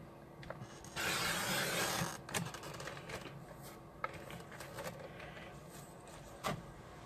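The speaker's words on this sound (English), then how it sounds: "I'm going to grab my trimmer because we are going to cut this down just a bit." A paper trimmer slices through card stock in a steady rasping swipe lasting about a second, followed by quieter clicks, shuffles and taps of handling the paper.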